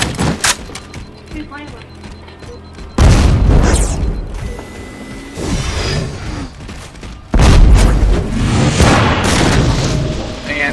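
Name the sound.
sticky detonator explosion in the video game Halo 4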